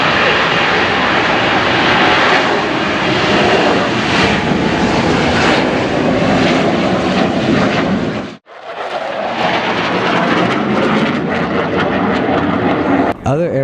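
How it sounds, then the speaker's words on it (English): FA-18 Hornet strike fighter and AV-8B Harrier jump jet roar past during mock bomb runs at a military air show, a loud continuous jet rumble that briefly drops out before surging back just as powerfully. "featuring the FA-18 Hornet Strike Fighter and the AV-8B Harrier jump jet, performing mock bomb runs"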